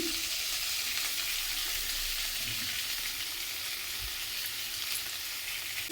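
Bitter gourd frying in a pan, a steady close sizzle that hisses evenly throughout, with a few soft knocks and stirring sounds and no talk.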